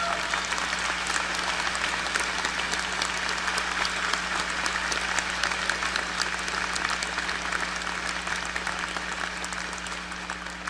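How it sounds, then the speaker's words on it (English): Sustained applause fills a university spring commencement hall as the audience honors graduates' families, a broad, even wash of clapping from many hands with a faint steady hum beneath. "Let's give them a round of applause."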